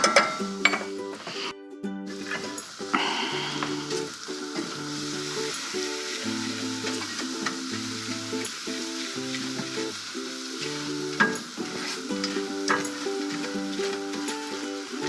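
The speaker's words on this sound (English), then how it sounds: "And a roux is when you just put fat or oil and flour together and make a paste. You cook that raw flavor out of that flour" A roux of fat and flour cooks in a big pan for New Mexico red chili sauce, sizzling steadily for the whole stretch while a utensil stirs and scrapes, with occasional clinks against the metal, close and with no speech.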